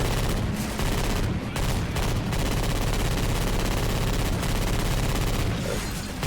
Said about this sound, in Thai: ยิงรัว